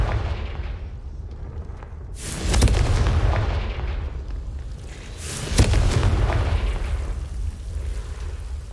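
Confringo blasting spell explosions in the Hogwarts Legacy wizard game, two loud booming blasts a few seconds apart, each with a sharp crack and a long rumbling tail over a low continuous roar.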